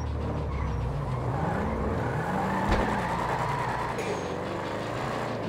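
A car drives in a role-play video game, its engine humming steadily and shifting pitch as it accelerates, with faint background noise and no talk.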